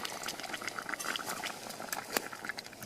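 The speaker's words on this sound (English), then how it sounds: "bubbling away nicely" Tomato curry bubbles steadily in a pot on a methylated spirit camp stove, a close, continuous simmering crackle and pop with no voices.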